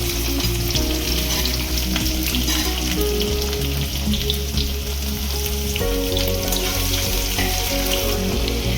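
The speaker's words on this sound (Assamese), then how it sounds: "এতিয়া মই ৰাফলি চপ কৰা পিঁয়াজখিনি দিম।" Roughly chopped onions fry in hot mustard oil with whole garam masala in a wok for a butter masala gravy, giving a loud, steady, close sizzle that runs without a break and with no talking.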